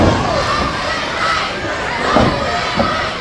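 Wrestling crowd in Houma, Louisiana, at a PW225 event, loud and steady cheering and shouting with rising yells and occasional thuds, filling the arena throughout.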